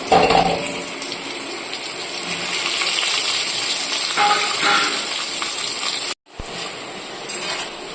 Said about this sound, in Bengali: এবার দিয়ে দিচ্ছি কেটে রাখা আলুটা।